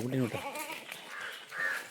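A goat gives a short, wavering bleat up close at the start, followed by softer bleating cries that trail off over a quiet background.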